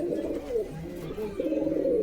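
A female pigeon, kept with a pair of birds for sale in Beldanga, Murshidabad, gives soft, throaty coos in two rolling phrases, close and clear over light background noise.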